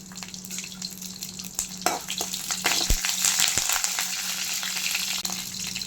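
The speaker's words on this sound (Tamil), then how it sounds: "வெங்காயம் நல்லா கோல்டன் ஃப்ரை வரணும்." Chopped large onions sizzle in a pan of hot oil with cinnamon, bay leaf, cloves, curry leaves and green chilli, a steady close frying hiss broken by a few sharp clinks and scrapes of stirring.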